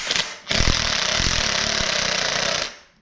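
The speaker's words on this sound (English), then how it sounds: "So impact gun plus studs." An impact gun hammers on turbo exhaust manifold studs during a CX Racing turbo manifold install on an E46 BMW 330i, a loud continuous rattling burst of about two seconds after a brief short blip, close and alone.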